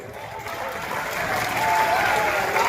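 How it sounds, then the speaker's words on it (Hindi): Crowd applause at a political rally in Madhupur with Amit Shah, a dense wash of clapping that swells steadily louder and stays continuous. "आप ताली तो बजा दो"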